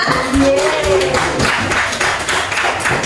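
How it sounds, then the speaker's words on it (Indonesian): Students clap for a classmate named Siva during a school anti-bullying lesson, a short burst of mixed, uneven hand claps from a small group, with some voices and a faint whistle-like tone heard briefly. "tepuk tangan untuk Siva"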